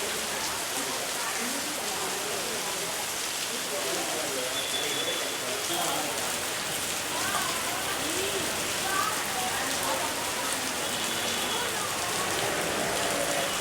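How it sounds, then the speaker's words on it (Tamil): Steady rain pours down in Chennai, a dense even hiss of drops with no breaks, heavy and close throughout. "பல இடங்களில் லேசானது முதல் பலத்த மழை வரை கொட்டி தீர்த்தது."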